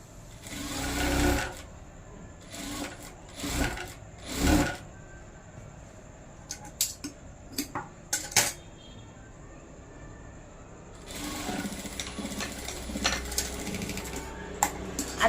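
Sewing machine stitching piping onto a blouse neckline with a quarter-inch seam margin: loud whirring runs of close, rapid stitching in several short bursts, separated by quieter handling clicks, then one longer steady run, with no talking.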